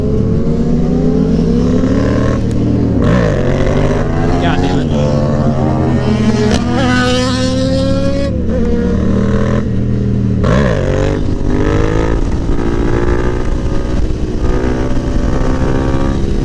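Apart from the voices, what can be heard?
motorcycles engines revving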